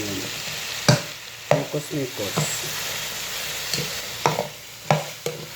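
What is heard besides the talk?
stirring ingredients frying in a pan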